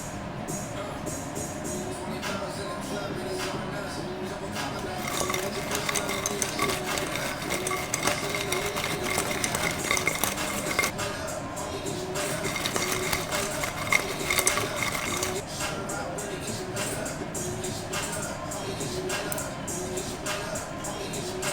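Chicken wings tossed with lemon pepper seasoning and butter make a continuous clattering, shaking rattle that swells in bursts, with no voices.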